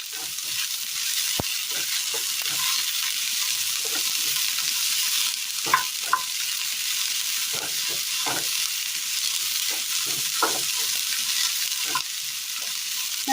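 Chopped onion and okra sauté in a pan for a Kerala okra curry, a steady close sizzle with intermittent scrapes and knocks of a spoon stirring, no voices.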